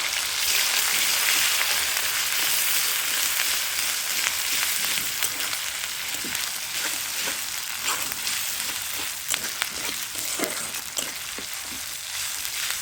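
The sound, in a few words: onion, garlic and ginger paste frying in a pan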